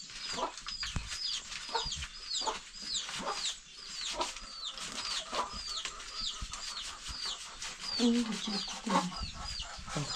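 Chickens cluck steadily close by throughout, with repeated chirpy calls layered over a household setting where people talk and move about in the background.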